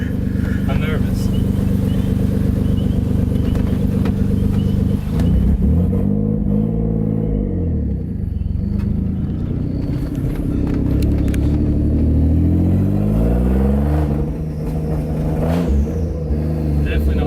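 A Greddy twin-turbo Nissan 350Z engine revs loudly and continuously, with rising and falling harmonic sweeps as the revs climb and drop, heard up close from inside the car with occasional voices.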